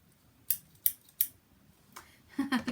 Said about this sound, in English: Look at these scissors. So they fold apart and they've got like that metallic rainbow.